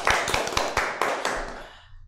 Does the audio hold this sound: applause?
yes